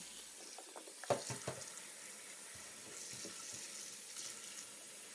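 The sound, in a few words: sink tap running water over fresh garlic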